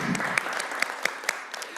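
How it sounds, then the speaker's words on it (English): Applause from attendees at a school board business meeting, a thin patter of scattered hand claps with a few sharp, close individual claps standing out, brief and without speech. "Let's give them one big round of applause."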